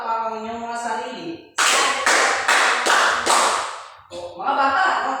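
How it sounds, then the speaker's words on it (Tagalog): A group of schoolchildren in a classroom claps five times in unison, each clap a loud, sharp burst in a steady rhythm, with a teacher's voice heard speaking before and after the clapping. "Bigyan nyo ng 5 palakpak ang inyong mga sarili."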